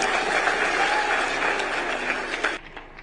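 Dense, loud applause from a university audience after a speech, steady clapping that cuts off abruptly near the end, leaving a few scattered claps.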